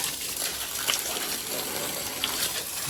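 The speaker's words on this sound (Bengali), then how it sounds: "পাইপটাকে আগে সোজা করে তারপরে জল দেবো ঘরের মেঝেতে বেশি করে জল দিই" Water gushes from a pipe onto the earthen floor of a house under construction, a steady, fairly quiet rushing splash with no speech.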